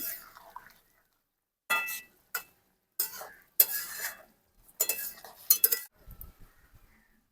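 A spoon stirs rohu fish curry with banana in a pot, giving several short bursts of scraping and clinking with quiet gaps between them, close and fairly soft, followed by a faint low sizzle at the end.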